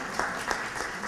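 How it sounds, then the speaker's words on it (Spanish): A crowd at a municipal prize draw in Miraflores claps for a winner; the applause is brief, steady and moderately loud, filling the whole moment. "el aplauso para él"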